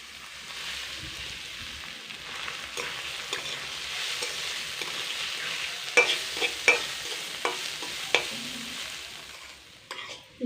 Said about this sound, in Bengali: এইবার এগুলোকে তেলের মধ্যে হালকা করে একটু ভেজে নেব।